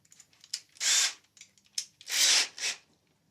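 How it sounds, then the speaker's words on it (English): Screws driven into a guitar neck with a power drill, two short bursts of whirring separated by small clicks and handling noises, close and fairly quiet. "Just going to screw these in place."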